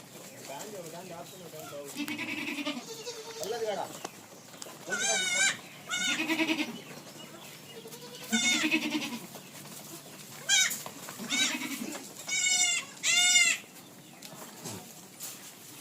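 Goats and sheep in a herd on a livestock farm in Andhra Pradesh bleat again and again, loud and close, with calls overlapping in uneven bursts and short pauses between them.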